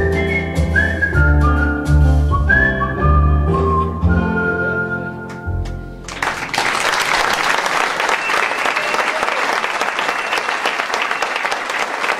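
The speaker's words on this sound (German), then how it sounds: "Ich hoffe, Sie hören den Applaus zu Hause" Theatre audience applause with whistling breaks out after a sung musical number ends, loud sustained clapping filling the room for the second half.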